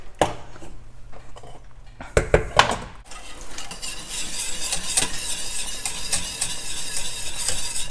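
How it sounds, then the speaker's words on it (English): A whisk scrapes and clinks against a pot of thick vegan ice cream mixture heating on the stove, starting with a few sharp metallic knocks, then continuing as steady, rhythmic stirring over a low sizzle. "I'm just gonna wait it for it to boil a bit and start whisking."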